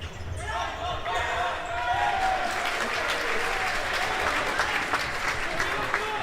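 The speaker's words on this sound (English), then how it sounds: "every little tackle is being applauded and cheered" Futsal crowd at an England versus Switzerland Euro qualifier applauding and cheering a tackle, a steady dense wash of clapping and shouts filling the hall throughout.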